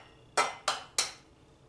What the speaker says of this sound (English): Take 2 eggs, just fucking crack them in there